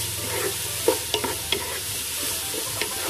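Ground meat and vegetables being sautéed in a pan, a constant sizzle with several sharp spatula clacks and scrapes against the pan, close and with no talking.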